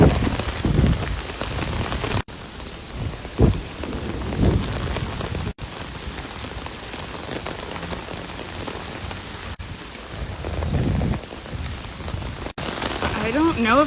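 Heavy rain from a storm in New York City, a dense continuous hiss of downpour on surfaces, loud and steady, with a person talking under it.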